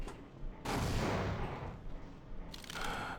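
Magnum revolver fire in the video game Half-Life: Source, heavy booming shots with dense rolling echo blurring together over a few seconds, played fairly quietly.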